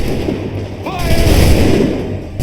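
A volley of muskets fired by a line of soldiers in Assassin's Creed III, a loud booming gunfire burst with a rumbling tail, and a shouted voice and a whistling tone heard over it.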